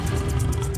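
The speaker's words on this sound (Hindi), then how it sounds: "गोलू को बहुत दूर से बाघ के दौड़ने की आवाज आ जाती" A tiger roars as it runs toward a herd of goats, a brief story sound effect heard as a dense low growling rumble with a rough, breathy upper edge, loud and alone.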